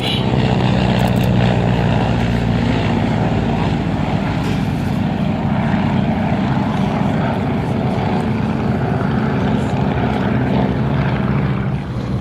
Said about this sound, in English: although it's a Fairchild aircraft, most of them were built by the Howard Aircraft Company under license